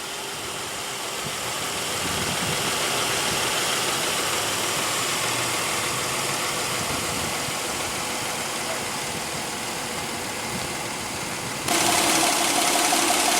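A 2015 Kia Cadenza 3.3-liter gas direct-injection V6 idles steadily with an even mid-pitched hum and light ticking, recorded up close under the hood, getting slightly louder near the end.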